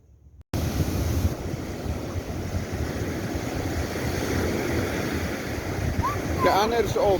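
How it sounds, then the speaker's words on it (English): Ocean surf breaking on a beach at a holiday resort on the KZN South Coast, a steady wash of waves with wind buffeting the microphone, growing slightly louder toward the end. "and then of course the ocean"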